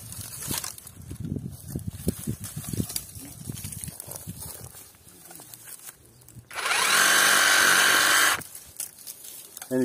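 A Parkside PSSAP cordless sabre saw cuts through a small tree in one loud, steady burst of about two seconds, standing out over a quieter stretch of rustling and handling noise before and after.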